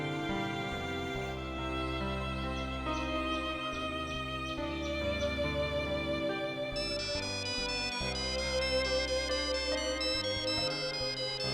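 A phone ringtone plays a melodic electronic tune at steady volume for about twelve seconds, with layered musical tones and no voices.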